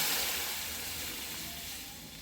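Hot water poured into a pan of sautéed vegetables seasoned with salt and garam masala for rava upma sets off a loud, steady sizzling hiss that slowly fades over about two seconds, with no talking.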